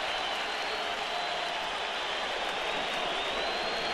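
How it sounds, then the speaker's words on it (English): A large crowd at a 2009 NLDS playoff baseball game cheers and applauds in a steady, dense roar. No single voice stands out from the wash of noise. "Here's the crowd."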